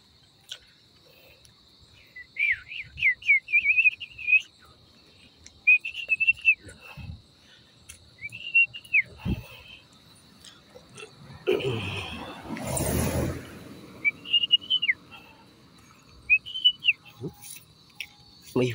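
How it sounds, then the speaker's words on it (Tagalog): Many birds give repeated short, rising chirps and whistles over a steady high insect drone in the dark, with a brief burst of broadband noise partway through. "May huni ng maraming huni ng ibon."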